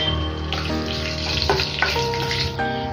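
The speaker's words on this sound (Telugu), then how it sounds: "ఇప్పుడు ఇందులోకి కొద్దిగా ఆవాలు, అలాగే జీలకర్ర, ఒక 2 ఎండుమిర్చి, కొద్దిగా కరివేపాకు యాడ్ చేసేసుకొని ఫ్రై చేసుకుందాము." Mustard seeds, cumin, dried red chillies and curry leaves sizzle and crackle in hot oil, a steady close frying hiss with quick pops and splutters and no talking over it.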